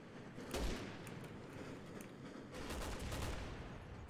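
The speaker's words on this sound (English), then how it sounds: "Did you just grenade launch that guy?" Rapid bursts of gunfire and explosive launcher shots from the Resident Evil 6 video game, a loud burst near the start and a dense volley later, with no talk over them.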